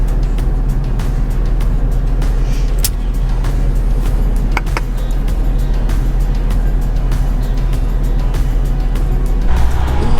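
A car driving home along a busy road, with a steady, loud engine and road rumble running throughout and a few brief knocks on top.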